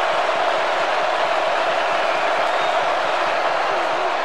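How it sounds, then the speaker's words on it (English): A broad, steady roar of a stadium crowd at a college football game, Kentucky against Georgia, cheering on the defense on third down, loud and continuous from start to end. "Again, the crowd is lit up for this defense."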